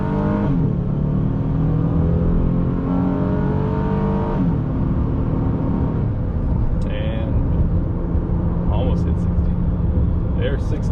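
A pickup truck accelerating up to 60 on a highway, a loud steady engine drone with rising harmonic pitch under constant road and wind noise, heard from inside the cab.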